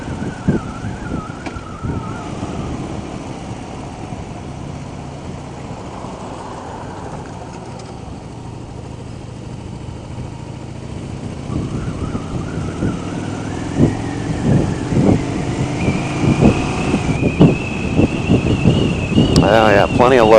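Harley-Davidson Street Bob motorcycle engine rumbling steadily during a ride, a low throaty drone under wind buffeting on the microphone, growing louder toward the end as the throttle opens; a rider talks over it at times.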